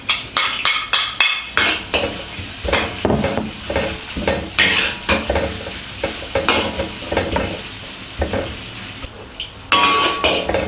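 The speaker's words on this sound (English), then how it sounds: "The remaining of the oil can be used to stir fry the vegetables and the noodles. Add the onion." Onion stir frying in oil in a wok for chow mein, with a bright sizzle under repeated sharp clanks and scrapes of a metal utensil against the pan in a quick, uneven rhythm, close and loud.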